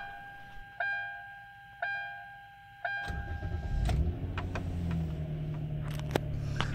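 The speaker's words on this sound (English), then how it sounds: "the car starts every time with no problem" A car, fitted with a newly replaced relay, sounds three evenly spaced chime tones, then its engine cranks and catches and settles into a steady idle, close and moderately loud.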